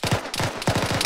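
Rapid automatic gunfire in the military video game ArmA 3: a close, loud stream of shots with a short pause midway, heard alone without talk.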